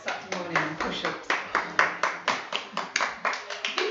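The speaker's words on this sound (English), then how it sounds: "give you a round of applause" Small group clapping near the microphone after a Saturday morning virtual Pilates push-up set, a steady run of uneven claps lasting throughout, with a voice speaking over it.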